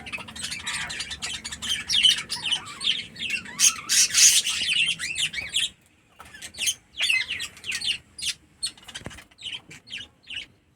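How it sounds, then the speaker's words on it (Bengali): Pet birds kept at home squawking and chirping loudly close by, a dense burst of harsh calls that breaks briefly then resumes as scattered sharp chirps. "দেখো বন্ধুরা, আমার পাখিগুলো কত বড় বড় হয়ে গেছে।"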